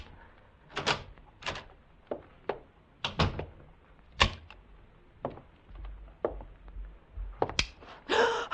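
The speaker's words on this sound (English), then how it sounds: "And then I heard the key in the lock." A radio-drama effect of a key turning in a door lock, made of quiet scattered metallic clicks, rattles and thunks spread over several seconds, with a door-like bump near the end.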